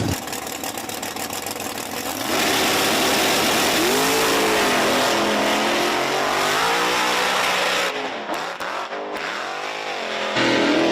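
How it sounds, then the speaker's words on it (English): A Camaro and a Mustang in an Outlaw Big Tire semifinal drag race at Virginia Motorsports Park, loud engines roaring and revving through sweeping pitch changes before cutting out near the end, with no talk. "We got Buck over here in the Camaro going up against the Roxy Mustang here in the left lane."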